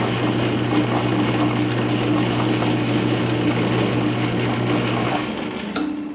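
A metal lathe turns steadily while chamfering a T-nut, giving a continuous whirring hum with light ticking and cutting texture. The machine winds down near the end, followed by a brief clink.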